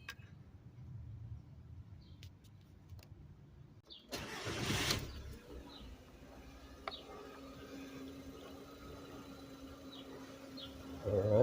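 A VW Golf engine, just after an exhaust leak repair, cranks over in a loud burst, catches, and settles into a steady, fairly quiet idle with a low even hum, while faint background sounds come and go.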